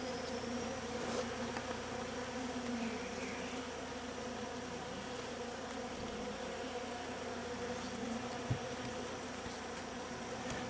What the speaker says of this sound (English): The bees that are in this hive are pretty friendly